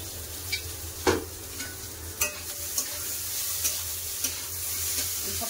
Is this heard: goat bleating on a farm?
no